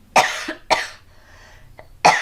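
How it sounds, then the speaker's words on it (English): A person with seasonal allergies coughs close and loud, three sharp bursts with short gaps between them and a faint throat sound in the middle, with no talking. "I'm going to cough, but it's seasonal allergies."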